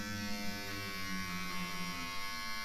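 Electric beard trimmer buzzing steadily as it trims and tapers a beard, a close, fairly quiet motor hum with a bright whine and slight wavering as it moves through the hair, without speech.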